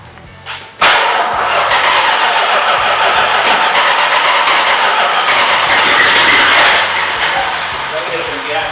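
A 1969 Plymouth Road Runner engine being cranked on a weak battery, with a steady, loud, continuous churning drone that starts abruptly and runs almost unbroken for several seconds, close to the microphone.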